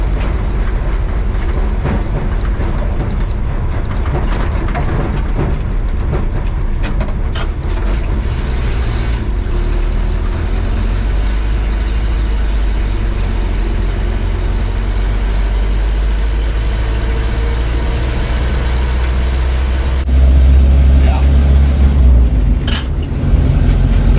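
A 1953 Willys Overland pickup truck on its first drive in 47 years, riding on worn original shocks, rumbling and rattling steadily, with the low engine drone swelling louder near the end.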